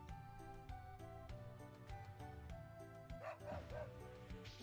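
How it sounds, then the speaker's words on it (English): Dog barking in the video game Wild Arms, a few short yipping barks near the end over steady game music, faint overall. "What do to fight a dog?"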